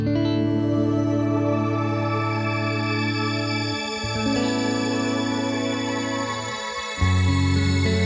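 A Valhalla Delay plugin preset with highs rolled off and added diffusion and slight detune, heard as sustained, layered synth-like tones with smeared echoes and no talk.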